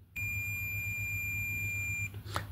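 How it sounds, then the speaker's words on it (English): Probing a pin on a hoverboard motherboard sets off a loud, continuous high-pitched beep lasting about two seconds over a low background hum, then it cuts off, followed by a faint click. "Third pin is, you can hear the beep, that is SWDIO pin"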